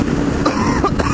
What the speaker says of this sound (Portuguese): se eu ficar tossindo nos vídeos